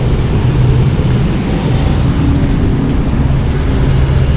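A 2006 Chevy HHR engine runs steadily during a smog test, a loud, even, broadband hum with low rumble and no talk.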